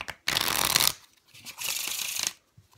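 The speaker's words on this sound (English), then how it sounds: "And now I can shuffle." A deck of playing cards being shuffled, two quick riffling bursts separated by a short pause, close and crisp with no talking.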